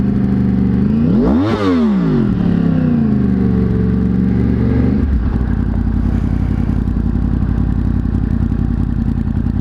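A motorcycle in traffic, loud and close: a sharp rising-then-falling pass with revving near the start, then a steady heavy engine rumble and clatter through the rest.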